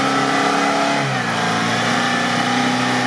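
A Lada Niva engine revs hard while driving off-road, a loud, steady mid-range drone with the pitch sliding and shifting partway through; no voices over it.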